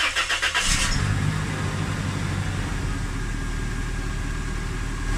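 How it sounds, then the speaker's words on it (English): A van engine cranks with a rapid chattering starter for about a second, then catches and settles into a steady, close idle that runs on evenly, in a setting where the air conditioning is being recharged. "I'm gonna start the van and let it run."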